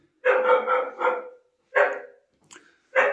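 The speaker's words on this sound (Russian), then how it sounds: "Лает собака." A dog barks four times in short bursts, close and clear against silence, in a Soviet-era residential courtyard with a barn-style padlocked door.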